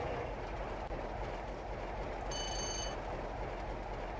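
Class 47 Freightliner diesel locomotive hauling a freight train in Trainz, a loud continuous rumble of engine and rolling wheels with a short high tonal squeal partway through.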